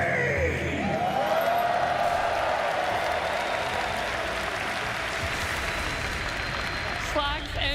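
Large esports arena crowd at the final day of The International 13 Dota 2 championship, sustained loud applause and cheering filling the space, with an announcer's voice ringing over it near the start.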